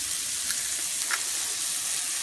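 Mushrooms sauté in a hot pan, a steady, close hissing sizzle with a few faint pops and a light scrape of stirring, and no talking over it.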